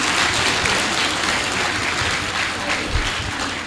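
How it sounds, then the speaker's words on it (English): Steady, dense clapping from a sizable crowd at a university inaugural lecture, loud and continuous throughout with no pauses. "Can you please applaud her once again?"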